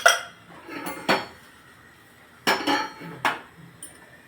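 A large metal cooking pan clanks as a spoon strikes and scrapes it in a home kitchen, sharp metallic hits in a few irregular bursts separated by short pauses.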